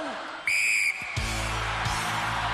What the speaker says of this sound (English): Helen, you will go on my first whistle.